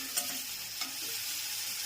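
Spiny gourd (kantola) tempering in hot oil, a steady close sizzle with a couple of brief sharp crackles and pops throughout, no voices.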